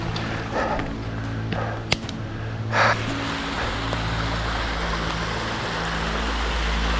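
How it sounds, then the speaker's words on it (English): A waterfall gives a steady, broad rushing roar that grows louder over the stretch, with a brief rustle and a sharp knock early on and no talking. "Pretty waterfalls and all."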